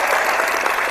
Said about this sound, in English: I'm going to give a big round of applause for that one